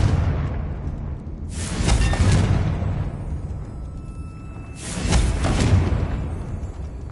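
A Confringo fire spell bursting in Hogwarts Legacy, heard as two loud, broad whooshing blasts a few seconds apart over a low rumbling background, with no voices.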